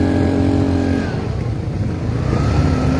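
A motorcycle engine revs close by on a highway, a steady loud buzzing drone with uneven throttle surges, heard alone without talk.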